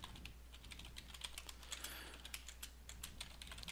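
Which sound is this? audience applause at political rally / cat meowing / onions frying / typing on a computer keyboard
typing on a computer keyboard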